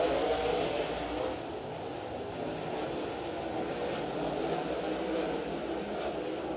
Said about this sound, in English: Great start by the 83V. Tanner Carrick runs second, followed by Dominic Gordon